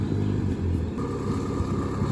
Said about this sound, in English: We can hear another car coming down. And it should be a truck